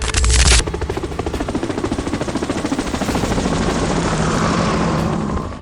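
Helicopter rotor noise during an operation at the Taj Hotel in Mumbai, a loud, steady chopping drone filling the whole stretch after a brief burst of broadband noise at the start, with no voices.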